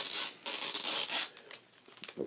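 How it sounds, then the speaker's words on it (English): Tape is peeled off a plastic case in several quick, close ripping and crinkling bursts, fairly quiet, with short pauses between pulls. "Now all I do is take off this tape."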